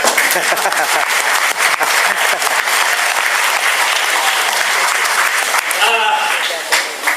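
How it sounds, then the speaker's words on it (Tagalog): Loud, sustained applause rolls through the audience at a Philippine peace negotiation event, dense and steady throughout, with a voice briefly emerging near the end. "Palakpak naman kayo."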